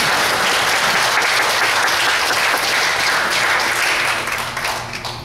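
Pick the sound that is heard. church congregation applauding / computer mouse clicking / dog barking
church congregation applauding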